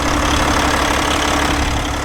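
A dump truck engine idles loud and close right after starting, a steady low rumble that holds even throughout with no speech over it.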